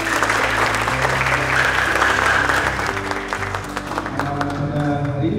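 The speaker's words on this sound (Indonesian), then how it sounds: "Aplaus buat kita semua." Steady applause fills a lecture room as students clap for everyone before a class at a polytechnic in Jember, a dense continuous patter that thins slightly toward the end.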